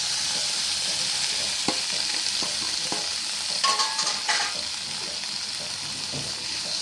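Chopped onions sizzle and fry in a pan, with a steady hiss throughout and a few scattered scrapes and clinks of a spoon stirring them, close and alone with no talk.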